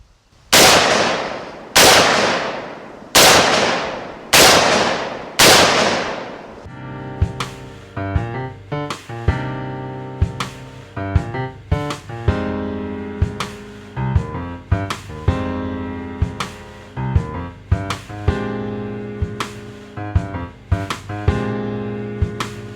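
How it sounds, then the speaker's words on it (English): Five loud, sharp gunshots from a Bear Creek Arsenal dual charging handle AR-style upper crack out in quick succession, each with a ringing tail, followed by metallic clanks and rattling handling of the rifle. "Last round bolt open worked again, and all 5 rounds fired with no issues whatsoever."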